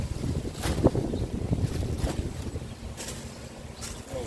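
Wind gusting across open sea, a steady rushing roar with buffeting bursts against the microphone.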